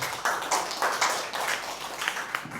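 A church congregation claps for Jesus, a fairly steady burst of many hands with some louder individual claps, moderately distant in a large hall, with no talking over it.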